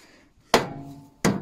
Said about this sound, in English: grab that half-inch drive hammer and just give that a few whacks